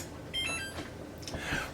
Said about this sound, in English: I am going to set my timer for 1 hour, 60 minutes